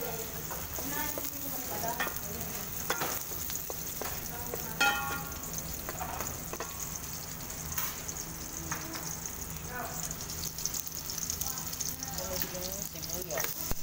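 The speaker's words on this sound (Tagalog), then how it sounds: "Tuwin muna natin ang bawang hanggang ma-brown" Garlic sautéing in hot cooking oil until browned, a steady sizzle and frying hiss with stirring clatter running throughout, with voices speaking intermittently over it.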